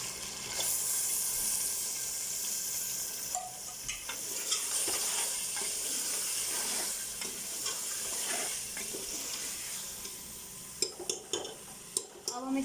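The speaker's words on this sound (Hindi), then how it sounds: "अब हम इसमें टमाटर डाल देंगे।" Tomatoes are stirred into mutton gravy with bottle gourd in a pan, giving a steady close sizzle under scraping stir strokes, with a few sharp utensil clinks near the end.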